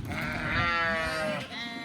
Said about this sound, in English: So these are some of the lambs that were sorted up so far.